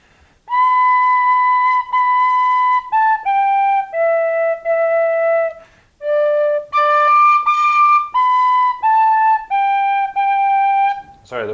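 Traditional Irish tin whistle playing a slow beginner tune, clear sustained notes in phrases with short breath gaps, solo and close, with a slightly blocked tone.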